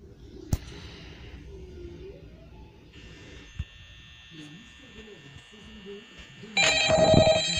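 Telephone ringing in the Five Nights at Freddy's video game, a loud bright electronic ring bursting in near the end over low background hum and game noise, with someone talking in French beforehand.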